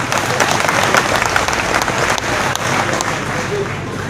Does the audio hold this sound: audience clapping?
yes